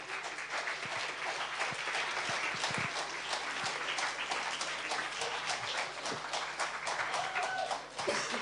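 A sustained round of audience applause fills a screening at the Ljubljana international film festival, steady dense clapping lasting the whole stretch without letup.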